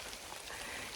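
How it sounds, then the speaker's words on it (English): Rain falling steadily on a wet day in the Royal National Park, a dense continuous patter alone with no voices. "It's raining again."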